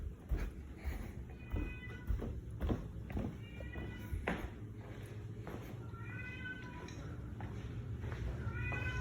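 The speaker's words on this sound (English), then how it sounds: "you can hear their cat in there." A cat meows repeatedly in short, high calls spaced a second or two apart, with clattering thumps and footsteps in the room.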